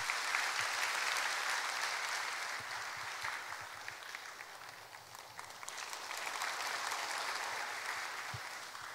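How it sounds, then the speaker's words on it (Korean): Steady applause from a crowd, sustained clapping throughout with a slight dip in the middle before swelling again. "다시 한번 박수 한번 해주세요"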